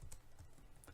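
A few quiet keystrokes clatter on a computer keyboard, soft close clicks spaced unevenly over a low, hushed background.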